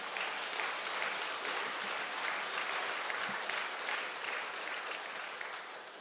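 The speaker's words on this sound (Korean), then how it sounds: "은혜 많은 교회는 이때 박수를 칩니다." Church congregation applauding during an anniversary service, a soft, distant, continuous patter of many hands clapping that slowly tapers toward the end.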